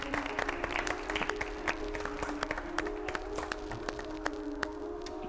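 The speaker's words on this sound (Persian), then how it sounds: "تشویقشون کنید" A studio audience claps for a departing guest on a Persian-language television program, with scattered, uneven hand claps that are moderately loud and fairly sparse.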